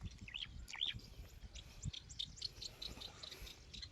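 Birds call near fish-filled water outdoors, with repeated high chirps and tweets scattered over a soft, rustling background of insect-like noise, fairly faint and without talk.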